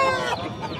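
A one-year-old, four-kilogram rooster at a Saturday hen market in Mydukur gives a short, close, throaty cluck that trails off quickly.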